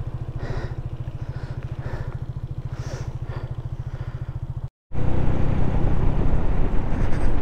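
A 125cc motorcycle rides around town, its engine a steady close drone with fast regular pulsing, briefly cut off and then resuming louder and rougher with road noise.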